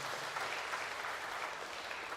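A church congregation claps hands during a Sunday service, a steady dense patter of many hands at moderate distance, continuous and even, with no voices rising above it.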